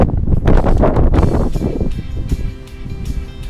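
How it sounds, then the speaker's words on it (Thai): Strong wind gusting outdoors in a garden near a Thai temple, a loud rushing roar buffeting the microphone that gradually eases, with a faint rustle in the background. "ก็มีเสียงลมเลยนะครับ ลมแรงมากเลยอันนี้"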